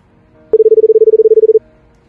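Telephone keypad being dialed to place a call, a rapid even run of about fifteen loud, clear tone beeps lasting roughly a second, with quiet before and after.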